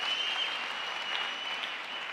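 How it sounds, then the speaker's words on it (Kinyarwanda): A crowd claps steadily in sustained applause, a dense even patter from many hands with no voices on top. "reka dukomere Imana yacu amashyi"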